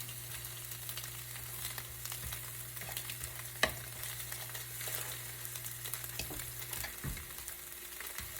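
Food frying in a pan with no oil, a soft steady sizzle with faint crackles and one sharp tap partway through, close but quiet.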